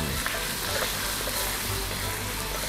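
Garlic dropped into hot oil for a ci cong fan dish gives a dense, continuous, bubbly sizzle, close and fairly loud and nearly unchanging throughout, with no one speaking.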